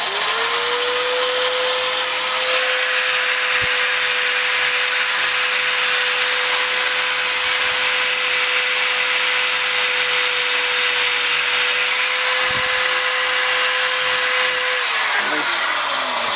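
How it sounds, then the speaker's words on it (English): Loud, continuous whine of a drill spinning a wire wheel to strip paint, holding a steady pitch with a broad abrasive hiss of bristles scraping the surface, then winding down near the end. "So I just started using the drill, the wire wheel."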